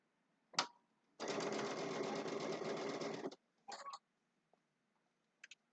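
A sewing machine stitches fabric for a Christmas table runner in a steady run of about two seconds, with a short second burst after it and a few light clicks around it, close and clear.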